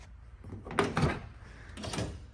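The door of a 1984 Chevrolet Camaro clunks open with a couple of solid thuds and a rustling swing, close by and fairly loud.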